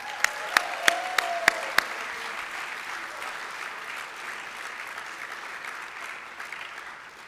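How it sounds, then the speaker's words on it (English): An in-person conference audience at NET23 applauding. A few sharp, separate claps ring out first, then steady, dense clapping continues and slowly tapers off, with no speech over it. "Can we give these guys a round of applause?"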